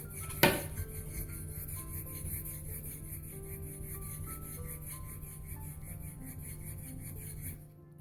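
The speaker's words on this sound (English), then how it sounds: "flat on that stone and do a few half strokes" Straight razor drawn in half strokes flat across a sharpening stone, a soft continuous scraping hiss with one sharp tick near the start, close but quiet, no voices.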